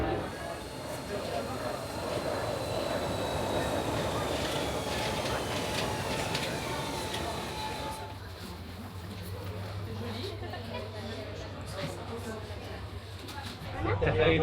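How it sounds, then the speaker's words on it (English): A cogwheel train in the Chamonix mountains departs and runs along its rails with a steady rumbling, squealing rolling noise and a low engine drone, heard from on board while people talk over it. "I don't think I'd ever been on a cogwheel train before"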